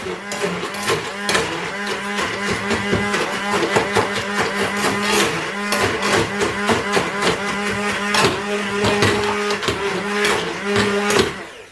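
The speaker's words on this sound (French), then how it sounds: "On va mixer un peu, mais pas trop." An immersion blender whirring in paella stock, a dense continuous motor drone with rapid rhythmic pulsing and rattling, loud and close throughout with no talk.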